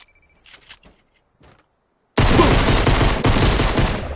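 Video-game shotgun fire erupts after a couple of quiet seconds with faint clicks, then roars as a loud, dense, continuous burst of gunshots to the end.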